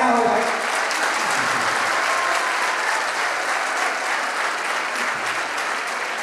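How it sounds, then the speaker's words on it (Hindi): A crowd of alumni at a Jawahar Navodaya Vidyalaya Begusarai reunion breaks into sustained, even applause, a thick wash of clapping that holds at steady loudness for several seconds with no voices on top. "जरा तालियां हो जाए।"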